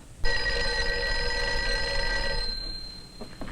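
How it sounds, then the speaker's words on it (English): An old-fashioned telephone bell rings in one sustained metallic burst of about two seconds, then stops, leaving faint room noise and small knocks; no one speaks. "Phone's ringing. It should be answered."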